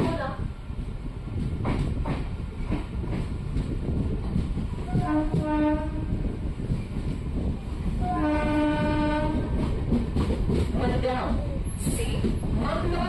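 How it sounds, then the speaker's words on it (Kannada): A Konkan Railway passenger train pulls out of Karwar station, a steady rumble of wheels and carriages with two long horn blasts partway through, heard from inside the train. "5 ಗಂಟೆ 14 ನಿಮಿಷಕ್ಕೆ ಕಾರವಾರ ರೈಲ್ವೆ ಸ್ಟೇಷನಿಂದ ನಮ್ಮ ಟ್ರೈನ್ ಹೊರಟಿದೆ."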